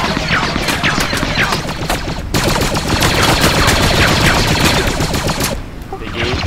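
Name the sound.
gunfire in the video game Squad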